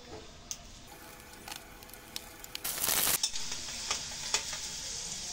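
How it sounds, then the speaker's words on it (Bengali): Onion and green chili fry in hot oil in a karai, a soft steady sizzle broken by scattered spatula scrapes and a brief louder hiss as the pan is stirred, quiet overall with no talking. "পেঁয়াজ আর কাঁচা ঝাল ভেজে নেব"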